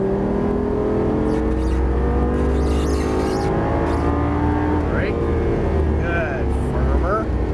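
A Lamborghini Gallardo Superleggera LP570-4 engine drones loudly and continuously on a race track, its pitch rising and falling as it accelerates out of corners, with an instructor talking throughout.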